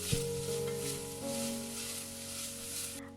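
Onion with crushed ginger and garlic sautéing in a pan gives a steady, close sizzle throughout, with faint stirring underneath and no voices.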